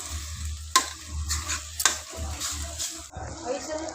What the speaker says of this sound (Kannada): ತರಕಾರಿ ನೀಟಾಗಿ ಇದನ್ನು ಒಗ್ಗರಣೆಯಲ್ಲಿ ಮಿಕ್ಸ್ ಮಾಡ್ಕೋಬೇಕು